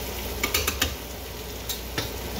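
Vegetables being stirred in a hot pan with olive oil before steak goes in: a few quick scraping clicks of a utensil against the pan over a steady low sizzle, close and moderately quiet.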